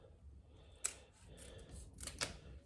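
A Maggi Mi Goreng seasoning packet being cut open with scissors, with two short, faint snips about a second apart in a quiet room.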